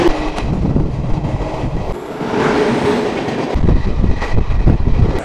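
Barbil–Howrah Jan Shatabdi Express train passing close and loud, with a continuous rumbling roar and rattling wheel noise throughout.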